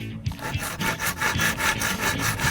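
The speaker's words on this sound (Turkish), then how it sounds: "Hadi o zaman bu ağacı keselim." Rhythmic back-and-forth sawing through a tree trunk in a children's cartoon game, quick steady strokes of a blade rasping on wood, close and alone.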